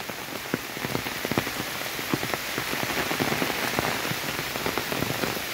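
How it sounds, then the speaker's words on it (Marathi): Rain falls steadily through a dense forest, a loud, continuous patter of drops striking leaves and ground with no pause and no voices. "आणि पावसाने अचानकच सुरुवात केलेली आहे"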